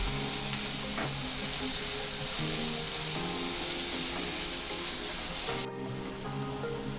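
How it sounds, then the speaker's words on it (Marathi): A makhana and vegetable mixture sautéing in a pan over a medium gas flame, with a steady close sizzle that runs through the whole clip and a brief scrape of stirring near the end, without any talk. "मिक्स करून घेऊया आणि मीडियम गॅसवरती दोन मिनटासाठी परतून घेऊया"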